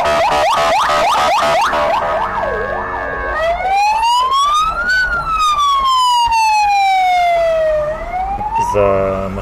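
Emergency vehicle siren on a busy road with traffic, close and loud, switching from a rapid yelp to a long rising and falling wail, then back to a quick yelp near the end, over steady traffic rumble.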